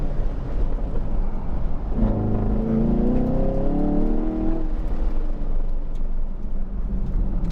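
A Camaro SS 1LE engine on an autocross course runs steadily, then revs harder for a couple of seconds with rising tone before settling back, heard close from inside the car without talk.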